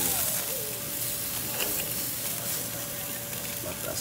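Food slow cooking on a hot grill or pan sizzles steadily, a dense close crackling hiss with a faint whining tone underneath, no talk.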